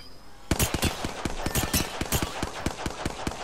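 Rapid automatic weapon fire from Apex Legends rattles out in a steady, evenly spaced stream of sharp close shots, loud and continuous for about three seconds with no talk over it.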